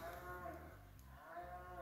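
A cow moos loudly in a long, drawn-out bellow that swells, dips and rises again, heard from across open countryside near a waterfall trail with no speech.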